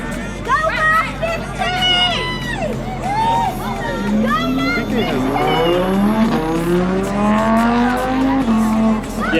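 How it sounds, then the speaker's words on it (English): At a car meet, a car does an all-wheel-drive burnout: the engine revs up and tires squeal under a noisy crowd that shouts and cheers close by throughout. "All-wheel drive burnout. Do it. Do a burnout!"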